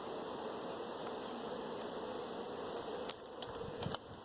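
A steady, low hum of many bees buzzing together on a blooming tree, continuous and fairly faint, with a few brief clicks near the end.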